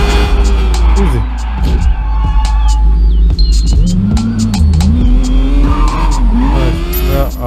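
A motorbike engine in the video game Sleeping Dogs, loud and close, revving up and down with rising and falling pitch sweeps over a constant low drone and a few squeals, as in a chase.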